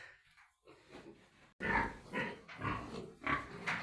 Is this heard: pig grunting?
yes